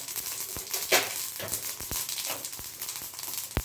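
Mustard seeds, urad dal and curry leaves sizzle in hot ghee for a South Indian moong dal kootu tempering: steady crackling hiss with sharp pops scattered throughout, close and moderately loud, no talking.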